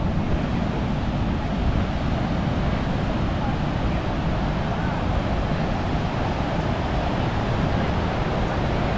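Loud, constant roar of rushing water at Niagara Falls, dense and unbroken throughout, like standing close to a powerful waterfall.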